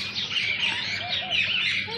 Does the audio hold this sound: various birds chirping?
yes